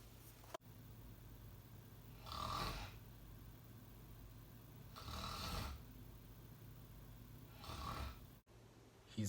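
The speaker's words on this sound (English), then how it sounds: "Allow stop the snoring, man. I can't sleep. It's too loud." Loud snoring repeats in three slow, drawn-out rasping breaths spaced a few seconds apart, close and alone, with a faint hum between them.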